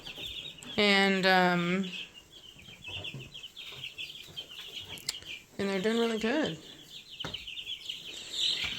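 Chickens, jumbo Cornish cross meat birds, cluck and peep at close range, with two louder squawking bursts, while a person talks over them.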